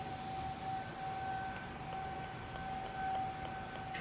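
A far-off siren outside sounds quietly and steadily, its faint sustained tone carrying over soft ambient noise with no voices.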